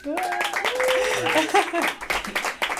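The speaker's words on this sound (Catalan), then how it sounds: "Un fort aplaudiment" An audience applauds at an intimate acoustic music session before a violinist joins the singer. The clapping is brief and scattered, mixed with lingering voices.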